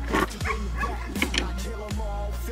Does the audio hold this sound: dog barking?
yes